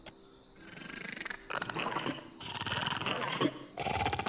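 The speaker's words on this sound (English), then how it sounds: "You hear the series of quiet chirps and growls ahead" Small semi-intelligent Zarup creatures in a video game give quiet chirps and low growls from the undergrowth, a short, faint run of rough animal calls.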